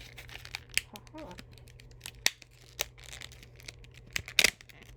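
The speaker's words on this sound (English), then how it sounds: "Let me see if I can open it without scissors." Someone tears open a plastic package by hand without scissors, making a few sharp rips and crinkles in scattered bursts, close and fairly loud against a quiet room.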